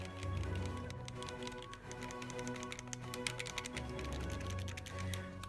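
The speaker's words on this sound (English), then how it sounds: "the ZL and ZR triggers are a lot smaller and are clicky." The ZL and ZR triggers on Nintendo Switch Joy-Con controllers click rapidly and repeatedly, close up, as a series of sharp plastic taps with no talk.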